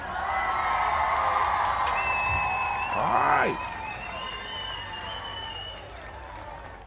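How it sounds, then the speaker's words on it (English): A group claps and cheers at a daily toast gathering, with a brief surge of applause in the middle that fades toward the end, and a voice speaking briefly over it. "We want to give the Ujamaa babies a round of applause"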